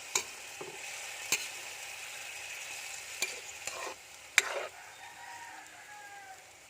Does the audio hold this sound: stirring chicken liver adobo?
yes